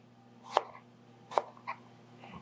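A chef knife chops vegetables on a cutting board while making pizza: two crisp, separate cuts close by, then a softer third, over a low steady hum.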